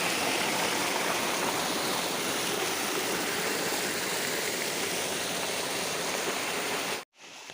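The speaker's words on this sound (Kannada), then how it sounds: "ಮೋರಿಲಿ ಹೆಂಗ್ ನೀರು ಹೋಗ್ತಿದೆ ನೋಡಿ ಒಳ್ಳೆ ಜಲಪಾತನೇ ಇದು" Rainwater rushes loudly and continuously through a roadside drain, a dense roaring flow like a small waterfall that cuts off abruptly at the end.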